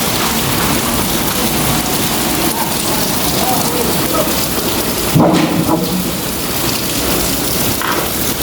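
A steady, loud downpour of heavy rain with rolling thunder beneath it and a brief sharper burst partway through; a faint voice may be heard under the rain.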